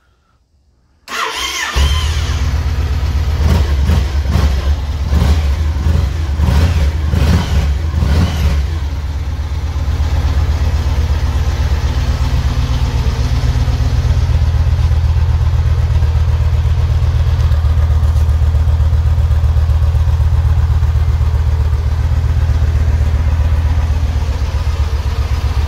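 A Yamaha Stratoliner XV1900 motorcycle engine cranks and fires after a brief silence, revs a few times, then settles into a steady, loud, close idle that runs to the end with no talking.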